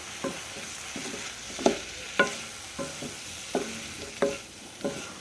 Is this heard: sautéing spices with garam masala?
yes